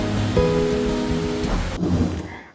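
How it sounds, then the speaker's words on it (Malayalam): Steady, heavy rain hisses loudly throughout, with a low rumble and some brief tonal hum in the background before it fades at the end. "അങ്ങനെ ഈ മഴ രാത്രി വരെ തുടർന്നു"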